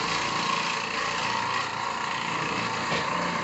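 Oreck Orbiter carpet cleaning machine running with a dual bonnet setup, giving a steady, close, continuous motor drone and broadband whir throughout, with no speech.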